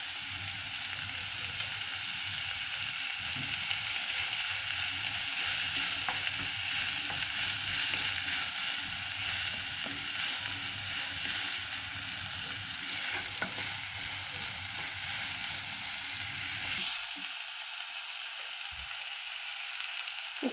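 Three cloves of garlic fry in a pan, a steady close hiss and crackle of sizzling oil with faint stirring, cutting off sharply near the end.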